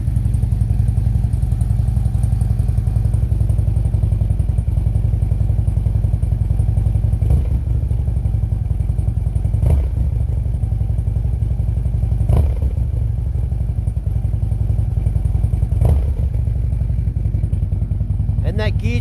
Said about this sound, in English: have a listen to this gear change